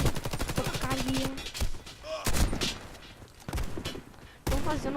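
Gunfire from a Warface shooter match: several loud, sharp bursts of shots spaced through the moment, with brief gaps of quieter game ambience between them.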